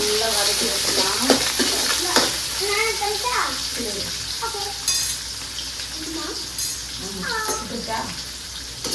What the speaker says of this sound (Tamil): வெங்காயம் சேர்த்து நல்லா வதக்கி வச்சுக்கலாம்.